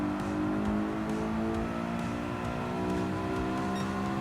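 A car engine revs hard under acceleration in Gran Turismo 7, a loud, steady, sustained drone with layered harmonic whine, close and continuous throughout.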